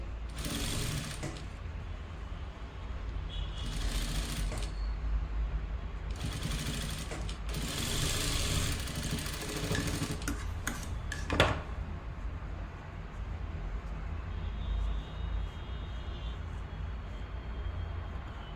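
Sewing machine stitching the lining of a double katori blouse, bursts of rapid whirring stitches separated by short pauses, close and fairly quiet.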